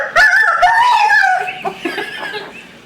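A human voice mimics a crowing rooster struck by a thrown shoe: a wavering crow that breaks off into short, strangled yelps, loud and close, lasting just under three seconds.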